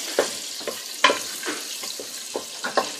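Whole peppercorns and spices frying in a pan for a chicken biryani, giving a soft, crackly sizzle with a series of small pops and stirring scrapes spaced irregularly throughout.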